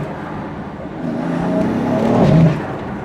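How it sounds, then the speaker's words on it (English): A tuned BMW M3 driving past, its exhaust note swelling as it accelerates and then easing off, loud and close with a crackly edge, no talk. "Car's definitely mapped up, as you can hear. All the pops and bangs."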